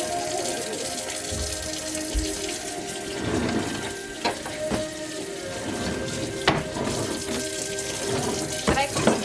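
Tap water runs into a sink while strawberries are washed during a rainy-day train glamping stay, a continuous splashing flow with scattered clatters and knocks close by.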